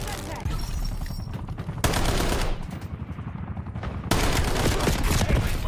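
Rifle gunfire in a shooter game, bursts of shots that stop and restart, with a quieter stretch between two loud volleys, close and dense throughout.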